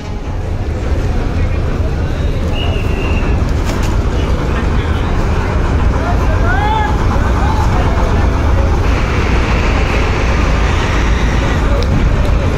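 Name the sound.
MV Manami passenger launch engine speeding up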